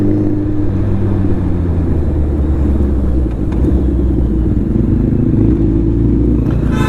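A Suzuki Hayabusa motorcycle engine roars through a street drag race in heavy traffic, a loud, continuous close-up rumble with steady throttle and a faint rise in revving near the end.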